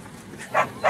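Two short dog barks ring out close by, one after the other, in a quiet home setting with no talking over them.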